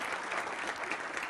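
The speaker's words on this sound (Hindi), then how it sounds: "डॉक्टर समृत पात्रा, राष्ट्रीय प्रवक्ता बीजेपी के, तालियों के साथ स्वागत कीजिए" Studio audience applause on a televised political debate show, a brief dense burst of clapping at a moderate level with no voices over it.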